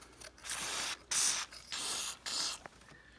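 Dry lubricant sprayed onto the moonroof track of a Yukon: four short, close hissing bursts, each about half a second long, separated by brief pauses.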